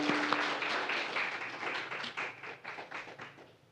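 A church congregation claps steadily during a Sunday service, a dense wash of applause that gradually thins into scattered, rhythmic claps before fading.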